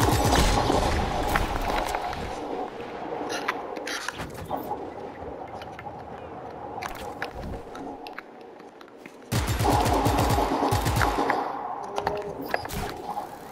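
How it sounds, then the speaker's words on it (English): Machine gun fire in the open-world action game Just Cause 3, with rapid bursts and busy game ambience that drops quieter midway before loud, dense firing resumes. "I always want to get this machine gun"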